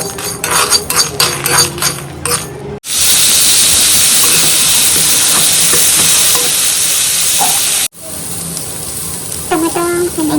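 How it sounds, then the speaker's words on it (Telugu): Tomato, dried coconut, ginger and garlic sizzle loudly in a pan while cooking for a chicken curry, with a long stretch of steady frying hiss. Stirring and scraping sounds come before and after the main burst, close up. "టమాటా అండ్ ఎండు కొబ్బరి అల్లం వెల్లుల్లి ఇది కూడా కొంచెం ఫ్రై చేస్తున్నాను నేనైతే"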